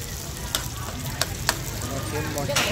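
Beef fries on a hot cast-iron plate at a street food stall with a constant loud, close sizzle, broken by a few sharp clicks of utensils.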